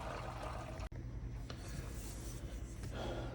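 Spatula scraping foam from butter melting in a pan while making clarified butter, a steady soft rasping and rubbing over a low continuous sizzle, with one abrupt brief break near the start.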